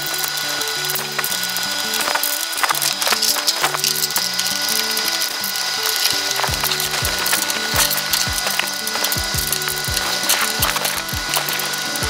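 A ratchet clicks rapidly and steadily while parts of a new work chair are tightened during assembly, close and continuous with mechanical ticking and faint creaks throughout, no voices.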